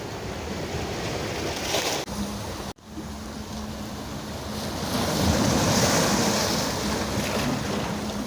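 Heavy sea waves crash against rocky shoreline on a rainy day, a loud continuous roar of surf swelling toward the end, with wind buffeting the microphone and a brief dropout partway through.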